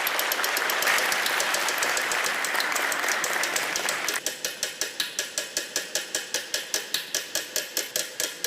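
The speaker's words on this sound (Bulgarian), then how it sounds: "Давай, аплодисменти за Колю." A studio audience applauds for a lottery contestant on a Bulgarian national lottery game show, dense clapping for about four seconds, then a wheel spins and its pointer clicks in a rapid, gradually slowing ratchet rhythm.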